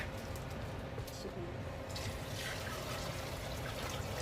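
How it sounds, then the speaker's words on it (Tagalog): Water pours steadily into a cooking pot for a shrimp-cube soup, a continuous splashing trickle that holds at an even level throughout. "Then, mag-add tayo ng tubig."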